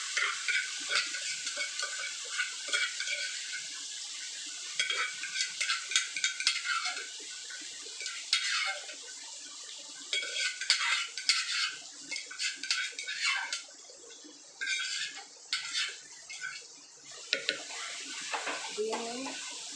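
Gongura leaves are added to a pan with turmeric and stirred while they fry, giving soft sizzling and repeated scraping and clinking of a utensil against the pan, with brief voices in places.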